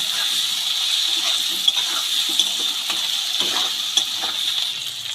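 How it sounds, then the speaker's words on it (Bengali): Potatoes with slit green chillies frying in a pan for a Bengali vegetarian dish, a steady bright sizzle and hiss with soft scattered stirring clicks at moderate volume. "আলুর সাথে লঙ্কাটা দিয়েও ভালো করে আলুর সাথে নেড়ে নিচ্ছি"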